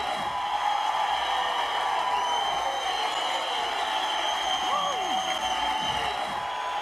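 A boxing crowd at a ballroom fight night roars and cheers continuously, a dense wash of voices and whoops behind a commentator talking over it throughout.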